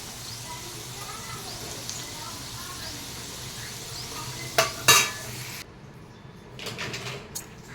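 Bitter gourd fries in oil with a soft, steady sizzle and occasional stirring scrapes, a sharp metallic clatter near the middle, then the sizzle turns fainter and muffled toward the end.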